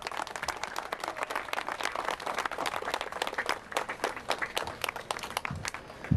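An audience at an auto expo gives a round of applause for Dennis, dense steady clapping from many hands heard at a modest distance, continuing throughout.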